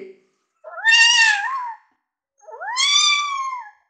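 A performer at a festival talent show imitates a cat with two drawn-out, close, clear meows separated by a short pause.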